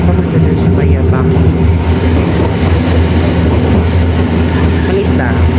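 Loud, steady rumble of a local train on Kyoto's Randen line, heard from inside a carriage, with low running drone and faint rail clatter throughout; a voice speaks over the noise.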